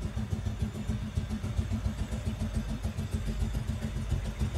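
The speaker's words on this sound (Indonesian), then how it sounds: "Dengar suara motor gak Mas Evi?" A motorbike engine drones steadily in the distance outdoors, a low pulsing hum without clear revs, continuous and fairly faint.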